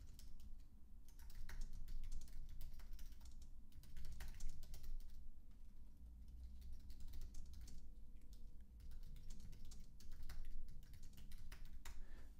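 Steady typing on a computer keyboard, a continuous run of quick close key clicks lasting the whole stretch with no voices over it.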